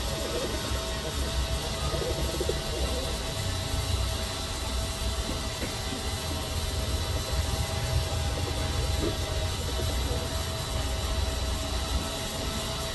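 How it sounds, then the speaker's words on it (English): Z908 Max budget 4K drone in flight outdoors, a steady broadband whirring hum that holds at an even level throughout, with no speech over it. "এই মুহূর্তে দেখতে পাচ্ছেন ড্রোনটি আকাশে উড়ে গেছে।"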